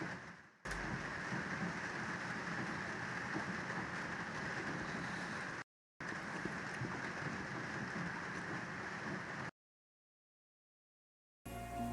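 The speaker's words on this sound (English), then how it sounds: "Open the window for less rain sound." Steady rain drums on a house roof as a dense, even hiss that is loud and unbroken, drops out briefly twice, and then stops near the end.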